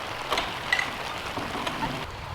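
Steady rain patters on a surface, a soft continuous hiss with occasional heavier drips standing out, fairly close and moderate in level.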